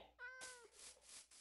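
A single short cat meow from a video game, clear and close, followed by faint rustling game ambience with no talk.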